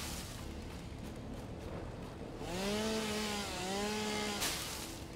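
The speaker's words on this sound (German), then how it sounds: "Kettensäge schwingen lassen, was im Weg ist." A chainsaw in the factory-building game Satisfactory revs steadily in two rising-and-falling bursts over continuous background noise while clearing the area, with no speech.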